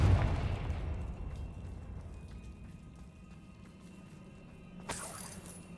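A Confringo spell explosion in Hogwarts Legacy opens with a loud burst that fades into a rumbling tail, and a sharp crack follows near the end.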